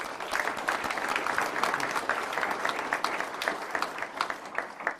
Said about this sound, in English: please give all these great people a round of applause